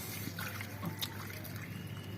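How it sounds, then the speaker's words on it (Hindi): Water poured into a potted rose plant after feeding, a steady soft trickling and splashing that runs evenly through the whole stretch, fairly quiet and without talk. "ये डाल लेते हैं, ये पानी डाल लेते हैं"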